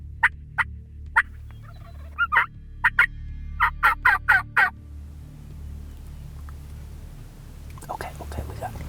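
A wild turkey gobbles in answer to hunting calls, a series of sharp, fairly close gobbles in quick bursts, with quiet whispered talk around them in an outdoor setting.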